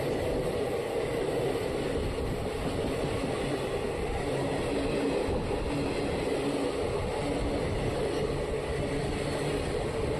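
The Sharavathi Express rolls steadily toward Birur Junction, a continuous loud rumble and rattle of coaches heard from inside, with a faint rhythmic clatter running beneath and no talking.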